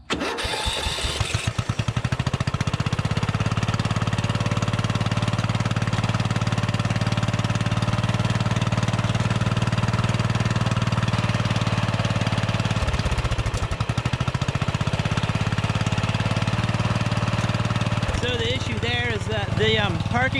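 A riding lawn mower engine, repaired after a faulty solenoid, cranks and catches, then runs in a steady, loud, close idle for most of the clip, with a voice talking over it near the end.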